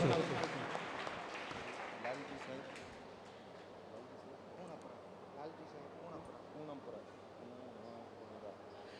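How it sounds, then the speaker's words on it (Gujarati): Audience applause at a community ceremony held by a Koli community association in Morbi: a burst of clapping at the start that quickly fades into the background murmur and talk of the gathered crowd. "જોરદાર તાળીઓથી આપણે વધાવશું"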